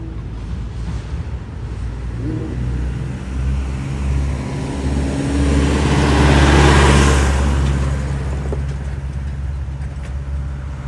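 A Ferrari 812 GTS supercar passes in the distance on a road, its engine note swelling to a peak about two thirds of the way through and then fading, continuous and moderately loud with no talk.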